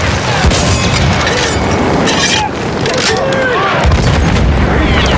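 Tank cannon fire and booming explosions during a Battlefield match, loud and continuous battle noise with heavy blasts throughout, while someone talks over the action.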